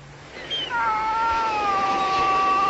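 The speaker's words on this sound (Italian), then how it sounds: "Ehi, com'è nervoso sto gatto." Agitated cat letting out a long, drawn-out, wavering caterwaul that rises and holds for several seconds, loud and fairly close, with no speech over it.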